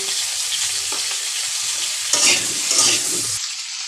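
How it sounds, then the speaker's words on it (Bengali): Potato pieces fry in hot oil with salt and turmeric in a pan, giving a loud, steady sizzle with brief stirring scrapes and bursts of crackle partway through. "আমি আলুগুলো ভেজে নেব। লবণ, হলুদ দিয়ে নেব।"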